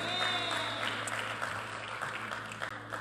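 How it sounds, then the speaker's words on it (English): A church congregation applauds during a pastor's sermon, a soft, diffuse wash of many hands clapping at a distance with a steady low hum beneath it. "Come on, clap it up for that."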